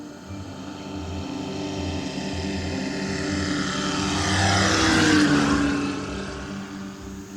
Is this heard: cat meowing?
no